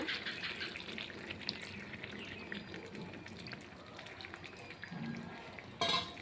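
A small splash of water is poured into a pan of hariyali chicken, a soft running trickle that goes on steadily and quietly with no talking.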